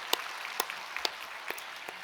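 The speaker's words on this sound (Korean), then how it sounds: "우리 이렇게 이루어 주신 하나님께 감사의 박수 한번 드리겠습니다" Congregation at a Sunday church service applauding, heard as sparse, scattered claps spaced apart at moderate, fairly soft level.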